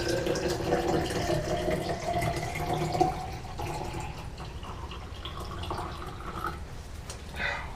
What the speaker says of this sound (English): I'm going to fill to the top line here with the D76